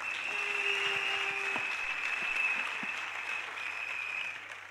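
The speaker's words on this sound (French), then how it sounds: "merci, sous vos acclamations" A congregation at a prophetic church service applauds, with even, fairly soft clapping spread across the room and held steady throughout, a constant hum and faint tone lingering beneath.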